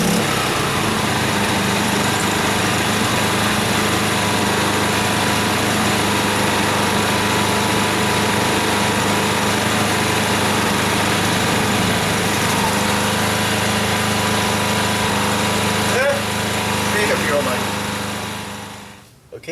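A Briggs and Stratton P2200 portable generator engine runs at a steady, close, buzzing drone with a constant high-pitched whine, then fades out near the end.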